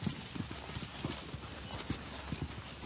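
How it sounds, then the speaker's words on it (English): Horse hooves clip-clop in a steady, uneven rhythm on a hard surface, fairly close and moderately loud, with faint background noise. "Beautiful horses."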